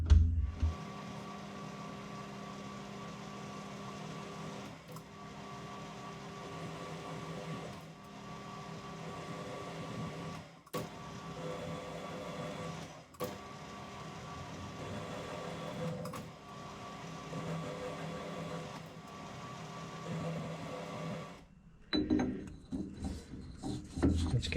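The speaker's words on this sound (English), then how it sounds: "set up with the threading tool and do that internal thread" A lathe cuts an internal thread with a threading tool on a dividing head backplate, a steady machine hum with rhythmic scraping and periodic clicks, then the motor stops near the end and handling noises follow.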